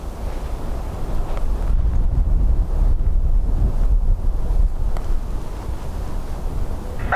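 Strong wind at Dublin Airport buffets the microphone with a steady, roaring rumble that swells through the middle and eases slightly at the end. No voices are heard.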